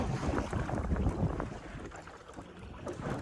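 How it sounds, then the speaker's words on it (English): Strong wind buffets the microphone over choppy water while a boat trolls for kokanee on a reservoir, with a constant rushing roar and low slapping of the waves and no voices. "Pretty super windy and choppy out here."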